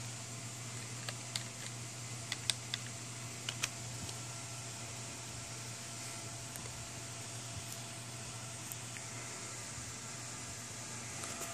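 Faint, scattered clicks of keys as a password is typed on a computer keyboard at a home-built gaming desktop. A few quick irregular taps come over a steady fan hum, with no talk.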